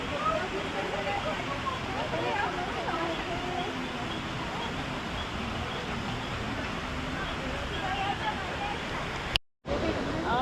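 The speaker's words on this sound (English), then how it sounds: "this is just a hot spring flowing through and steaming up the room" Volcanic hot spring water rushes steadily through a steam bath room in Colombia, a continuous broadband wash like a small waterfall, close and fairly loud, with a brief dropout near the end.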